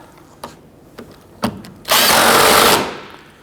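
A power tool runs in a loud, steady burst of just under a second, tightening a lower windshield cowl bolt on a 1997–2006 Jeep Wrangler, preceded by a few light clicks and taps close by.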